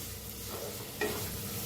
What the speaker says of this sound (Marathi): तर छान भाजूया.